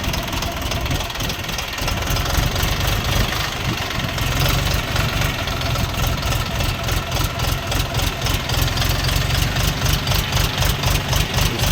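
A Dongfeng 244G2 mini tractor's small diesel engine idles steadily nearby, with a rapid, even knocking pulse that grows slightly louder partway through.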